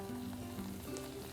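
Steady sizzling of beef searing in hot oil for spaghetti sauce, close and continuous, with a faint low hum underneath and no talking.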